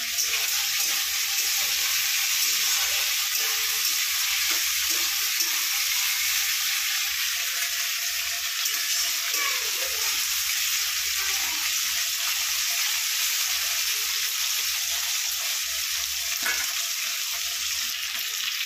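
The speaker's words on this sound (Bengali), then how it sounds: "মাংসটা হালকা হালকা ভাজা হয়ে এসছে" Meat frying in a pan in a hot home kitchen under a staircase, a constant close hiss and sizzle running evenly throughout with occasional faint scrapes of stirring.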